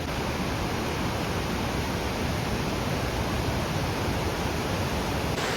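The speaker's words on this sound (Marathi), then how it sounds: "असा वरून कोसळणारा धबधबा आहे" Veer Devpat waterfall in the Konkan monsoon, water cascading from above in a dense, steady roar that fills the scene from start to finish with no pauses or voices.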